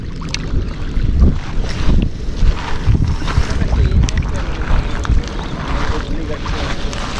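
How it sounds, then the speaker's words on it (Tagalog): Strong wind blows outdoors, buffeting the microphone with a heavy, continuous low rumble and gusty surges for several seconds, with faint, indistinct voices partly buried beneath it. "Mahangin eh."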